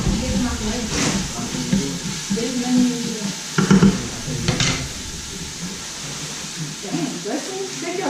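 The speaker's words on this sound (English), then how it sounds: "I saute this for another minute." Southern-style greens with tomato paste sauté in a pan, giving a steady soft sizzle broken by a few louder scrapes and clatters of stirring, with a person talking over the cooking.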